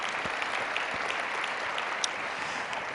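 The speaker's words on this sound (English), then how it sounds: "Round of applause to all of you for the good work that you do." A convention audience claps steadily in a dense, sustained round of applause that fills the room without a break.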